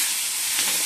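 Capsicum and onion hit a hot pan with a loud, close, steady broadband sizzle that holds evenly through the brief moment.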